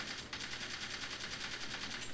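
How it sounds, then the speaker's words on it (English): Rapid video game gunfire heard through a SteelSeries Arctis 7X open-back wireless headset, a steady dense rattle of automatic shots that runs continuously and fairly loud for the whole stretch, with no talking. "The gunshots are really loud."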